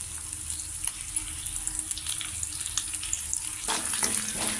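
Finely chopped ginger and green chilies fry in oil with mustard-seed tempering, a soft continuous sizzle and crackle up close, turning louder and fuller in the last second with a splashy, watery edge.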